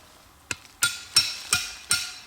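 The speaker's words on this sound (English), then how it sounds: "This groundhog hammer, you can't beat it, man. Big, pound, make holes with it." A groundhog hammer pounding holes in dirt for a coyote dirt hole set, five sharp dull thuds at an even pace, close and clear with no talk.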